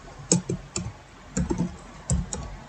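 Keys on a computer keyboard being typed in short clustered bursts with gaps between, entering an SQL select query; clicks are moderately close and clear with no talk.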